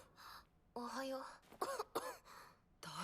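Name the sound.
cough in an anime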